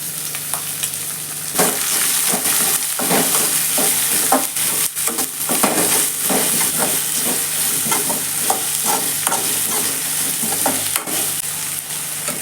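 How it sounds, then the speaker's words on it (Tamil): Onions frying in oil with whole spices such as star anise and cinnamon in a pan for prawn rice, a loud close sizzle with many sharp stirring scrapes throughout. "வெங்காயம் கொஞ்ச நேரம் வதங்கட்டும்."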